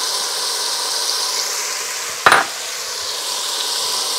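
Garlic and onions frying hard in a pan, a loud, steady, close sizzle throughout with one brief sharper clatter partway through.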